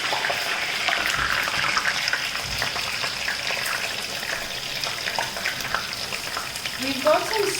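Okra (bhindi) frying in hot oil for a Sindhi tomato kadhi, giving a steady, dense sizzle throughout with a few brief clinks near the end.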